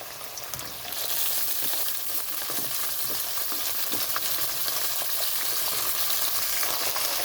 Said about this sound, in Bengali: এখানে আলুটা একটু ভাজা হয়ে গেছে তো এখানে দিয়ে দিচ্ছি আমি ভেন্ডি